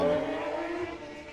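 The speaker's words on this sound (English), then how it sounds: "Did you hear that motorcycle flying by?" A motorcycle speeds past outside an open window, its engine a steady, fairly loud drone that thins out slightly as it moves away, heard from indoors.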